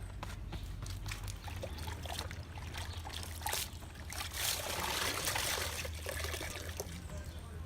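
Rinse water trickles and drips steadily off freshly washed raccoon hides during tanning, a continuous close wet patter with a low hum underneath.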